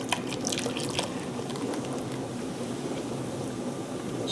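Beer is poured into a simmering cottage pie filling, giving a soft liquid splash and bubbling patter that starts with a few sharper drips and settles into a quiet steady trickle.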